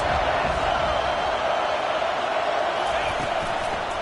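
A loud, roaring stadium crowd at an NCAA football game on third down, a dense steady wall of cheering and yelling that holds without a break.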